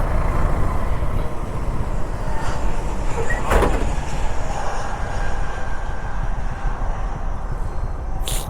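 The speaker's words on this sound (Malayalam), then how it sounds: "ദേ കണ്ടോ ആ ഫ്ലൈറ്റ് പൊങ്ങി" A jet airliner climbing away on takeoff at Cochin International Airport, heard as a loud, steady broadband roar that holds throughout with a brief whooshing swell in the middle, no voices.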